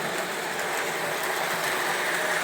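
A Lionel Docksider 0-4-0 switcher model locomotive runs with a steady, close whirring motor hum and a faint rolling rattle, continuous with no talk.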